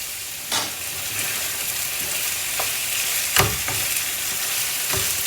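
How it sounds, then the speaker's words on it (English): Chicken pieces frying in vindaloo masala with onions, a constant close sizzle broken by a few sharp stirring scrapes and clicks. "So just let this fry for a little while till the pieces become a little firm."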